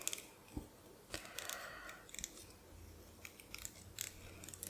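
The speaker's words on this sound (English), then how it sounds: "take a pair of more precise scissors and cut these insides" Precise scissors snipping paper for a journaling card from guest check ephemera: faint, crisp cutting snips in irregular bursts, close and quiet, with no talk.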